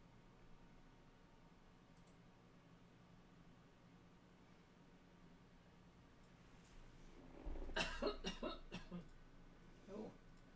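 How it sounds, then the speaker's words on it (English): A single person's cough, a short cluster of harsh bursts close by against a quiet room, followed by a fainter second cough. "Just a regular cough."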